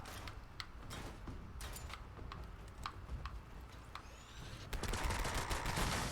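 Rapid bursts from the PepperShaker, a spin-up weapon with a faster fire rate mod, firing in a shooter video game. Crackling shots come in uneven clusters, then grow louder and denser toward the end.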